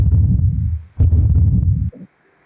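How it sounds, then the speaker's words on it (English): A heart beats in loud, low thumping pulses, two long throbbing stretches separated by a brief gap before fading to silence. "That's your heart beating."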